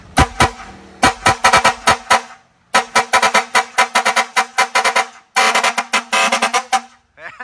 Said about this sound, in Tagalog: Ang lakas nung fire air horn natin.